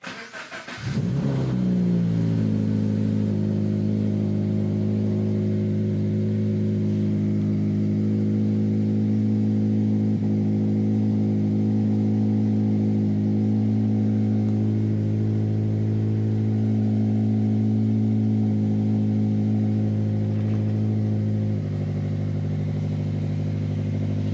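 A car engine cranks and catches in a garage, then settles into a loud, steady rumble with a deep drone, echoing in the enclosed space.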